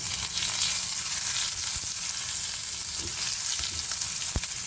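Ginger sizzles steadily in hot oil with white cumin in a pan for Bengali urad dal, a close, continuous crackle with a few soft clicks from the pan near the end and no talking.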